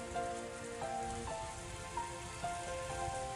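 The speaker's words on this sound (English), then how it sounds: "the obnoxious pounding of the rain against the window." Steady rain beats against a window in a visual novel scene, a dense continuous patter with a few soft piano-like tones ringing over it, moderately loud and without voices.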